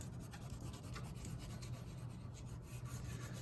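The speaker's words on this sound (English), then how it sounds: "I'm gonna use the side of the crayon and I'm gonna rub it" The side of a crayon rubs back and forth across paper in quick, even strokes, a close, steady scratchy rasp with no pauses.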